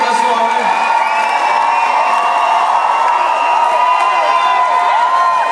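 A crowd at a rock concert in La Sarre cheers and shouts steadily at close range, with whoops and voices rising over a dense wash of crowd noise and little distinct clapping.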